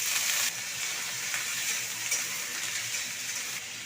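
Onion and chopped vegetables sizzle steadily in a frying pan, a continuous close crackle with faint stirring scrapes and no talk.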